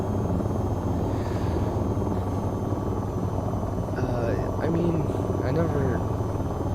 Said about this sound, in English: the helicopter isn't that fast